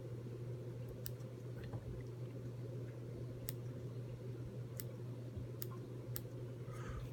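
Scissors trim hare's ear dubbing on a fly-tying caddis pattern, giving a string of faint, sparse snipping clicks over a steady low hum.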